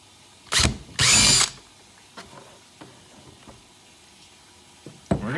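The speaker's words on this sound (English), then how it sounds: "I don't want to drill out all 4 holes here and then have a problem with it." A power drill bores holes with a 7/32 bit while installing a Scotty deck mount, two short loud whirring bursts in quick succession followed by quiet clicks and handling taps, close up.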